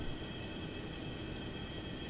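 A train rumbling past in the X-Plane 11 flight simulator, a steady low, broadband roll with a faint tonal whine, moderately quiet and unbroken, with no voices over it.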